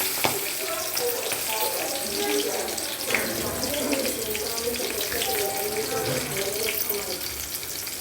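Onions and green chillies frying in a pan, a steady sizzle and crackle running evenly throughout at moderate loudness.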